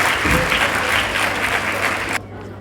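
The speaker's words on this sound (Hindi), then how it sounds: "एक बार जोरदार तालियों के साथ स्वागत करते हैं" Loud, dense applause from an audience at a Women's Day ceremony in New Delhi honouring women employees, sustained for about two seconds before cutting off abruptly into quiet room tone.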